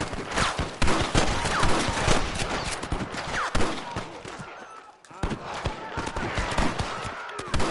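Loud, dense gunfire in a Red Dead Redemption shootout with rustler guards, many sharp shots cracking in quick succession nearly throughout, dipping briefly before resuming, with occasional shouted voices mixed in.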